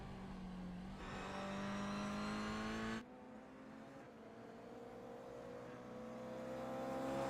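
Race car engine from a GR Cup sim racing video game, a steady high harmonic whine that rises and falls as gears shift, one loud car running alone and close throughout.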